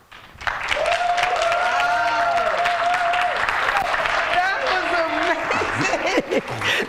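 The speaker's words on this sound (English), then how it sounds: "Y'all give him another round of applause" Applause and cheering rise from an audience at the Urban Impact Sharks At The Beach 2022 event, loud and continuous, with people calling out and a voice speaking over the crowd near the end.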